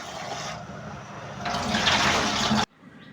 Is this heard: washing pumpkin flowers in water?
yes